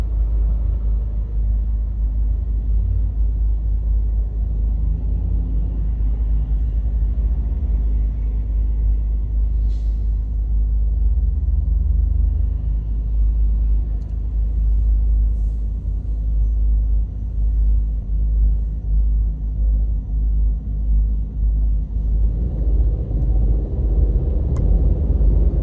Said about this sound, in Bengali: এবার রাস্তা খালি পেয়েছি, একটা টান দিচ্ছি।